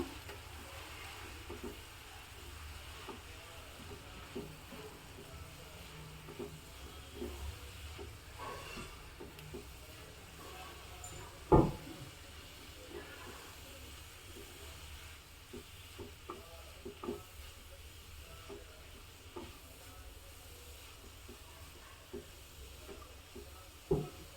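Cabbage and ground masala being stirred in a pan for a village-style Havyaka dry cabbage palya, a low steady sizzle with scattered soft scraping taps of the spoon and one sharper clack near the middle.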